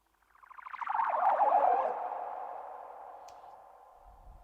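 A swelling synth riser in Logic Pro X with a fluttering spring reverb rises quickly, then slowly decays into a ringing metallic tail, alone and fairly quiet.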